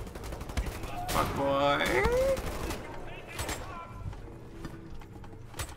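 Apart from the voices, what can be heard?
gunfire in video game Wolfenstein The New Order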